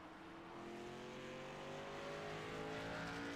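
Pace car engine in a sim racing game at Las Vegas, a steady continuous drone with tonal harmonics holding level and slightly rising throughout, no talk over it.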